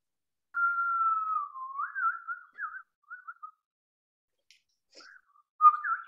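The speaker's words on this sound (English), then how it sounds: "Let's see who can whistle." People attempt to whistle one after another during a storytelling workshop, producing a long wavering tone followed by short broken chirps and a final brief whistle, near and clear with no talking.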